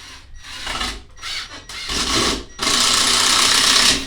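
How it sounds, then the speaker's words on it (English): A power driver sinks a 3-inch screw into a wooden board, whirring in short bursts and then one long loud, grinding run near the end, close and without talk. "I took 3-inch screws. You don't need 3-inch screws, but that's what I took. And I screwed one in the middle."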